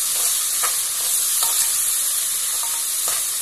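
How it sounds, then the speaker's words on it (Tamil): Mint leaves and green chillies sauté in hot oil for mutton dum biryani, giving a steady close sizzle with a few soft scrapes from a stirring spoon. "புதினா வந்து நல்லா எண்ணெயில நல்லா வதங்கி அந்த வாசனை போகணும்"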